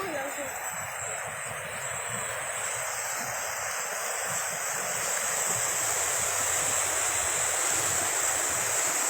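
The Cisadane river flowing through the city of Tangerang makes a steady, broad rushing wash of water, loud and continuous throughout, with no clear voices over it.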